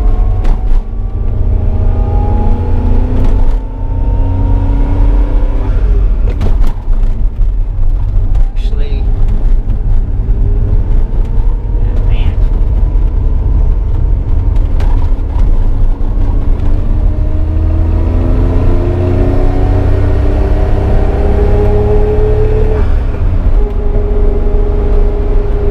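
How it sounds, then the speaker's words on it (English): A lightweight Suzuki Cappuccino converted to electric drive accelerates hard in rush-hour traffic. Its motor whine climbs in pitch again and again through repeated pulls over a loud, constant road and wind rumble heard from inside the car. "Let's kind of take it for a spirited drive here."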